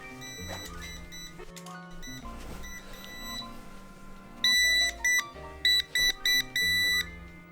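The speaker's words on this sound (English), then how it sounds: "A remote finder." An Nvidia Shield remote's finder sounds off with bright electronic beeps, first in soft patterned tones and then in loud repeated bursts with short gaps, close and alone.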